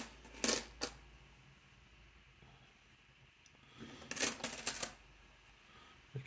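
Loose coins clink and clatter in two short bursts of handling during coin roll hunting, close and crisp with quiet gaps between them, and no voices.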